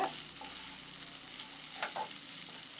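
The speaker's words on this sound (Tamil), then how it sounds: "நல்லா மிக்ஸ் பண்ணி விட்டுக்கலாம்." Soaked red poha being mixed in a hot pan for Tamil-style aval upma, a soft continuous sizzle with a couple of light spoon scrapes, close and fairly quiet.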